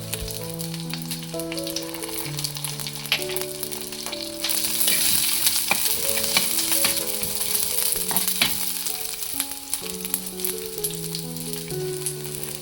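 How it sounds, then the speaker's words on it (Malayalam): Shallots, garlic and ginger sautéing in hot oil for a Kerala fish head curry, a steady close sizzle with light stirring scrapes, while tonal background music runs underneath throughout and the frying grows brighter and louder midway. "ചുവന്നുള്ളി നന്നായി വഴണ്ടി വരുമ്പം വെളുത്തുള്ളിയും ഇഞ്ചി ഇട്ടിട്ട് വീണ്ടും വഴറ്റുക"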